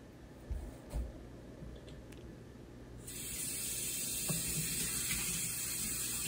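Tap water runs into a plastic ice cube tray, starting abruptly partway through as a steady, fairly loud hissing splash after a few soft handling knocks.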